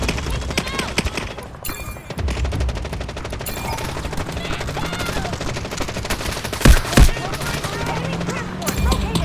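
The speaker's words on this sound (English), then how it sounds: "There's people shooting at us." Bursts of automatic weapon fire in the video game Delta Force during a sandstorm match, rapid rattling shots mixed with game effects and footsteps, with a couple of louder gunshots near the end and a player's voice underneath.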